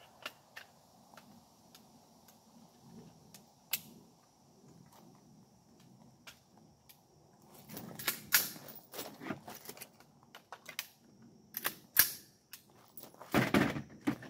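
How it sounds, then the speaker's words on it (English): A rifle with a scope being reassembled, with sparse metallic clicks and ticks at first, then a cluster of louder clacks, snaps and knocks as parts are fitted together close by. "So let me put this gun back together."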